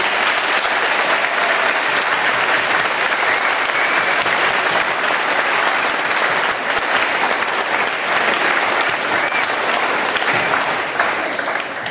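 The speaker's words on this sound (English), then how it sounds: "If we could give them a round of applause, please." A large audience at a school Memorial Day assembly claps steadily and loudly, a dense, even wash of applause sustained throughout.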